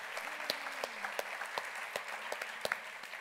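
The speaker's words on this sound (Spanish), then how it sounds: "Aplausos, por favor" Scattered applause from a congress audience: sparse, distinct hand claps at an irregular rhythm over a quiet room hum, fairly faint and distant.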